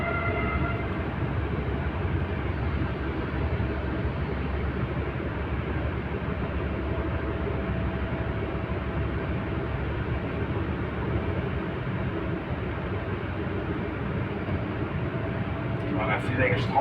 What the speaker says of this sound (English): I'm in the metro now.